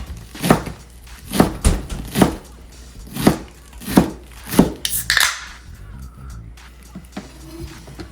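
Knife chopping green onions on a board, a steady run of sharp close thuds about every half second, then some scraping and faint clatter as the chopping stops.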